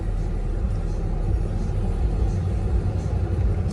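Dense Brooklyn street traffic heard from inside a Tesla Model X Performance, a constant low rumble of engines and tires close by, steady and unbroken.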